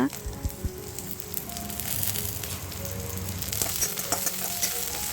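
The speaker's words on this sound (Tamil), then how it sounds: "ஒரு ஸ்பூன் நல்லெண்ணெயில் நல்லா வதக்கிக்கலாம்" Garlic and a sprig of curry leaves sautéing in a spoonful of sesame oil for garlic chutney, a steady close sizzle with stirring and spatula scrapes throughout, some faint background voice.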